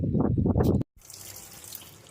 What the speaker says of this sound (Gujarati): હવે શાક બનાવવા માટે આપણે ભીંડાને સ્વચ્છ પાણીએ ધોઈ નાખીશું